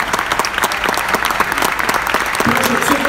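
Football players are greeted with strong crowd applause at an official Barcelona shirt presentation featuring Alessandro Del Piero, a dense run of clapping with a voice briefly heard near the end.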